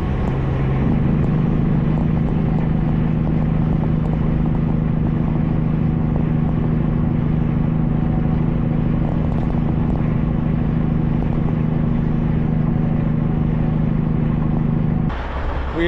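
A truck drives along a Nevada road near Eureka, its engine holding a steady, loud droning hum with road noise throughout, briefly shifting at the very end.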